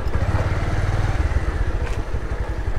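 A motorcycle engine runs steadily while the bike rides through loose sand in Chattogram, a loud close rumble with uneven clattering and throttle surges.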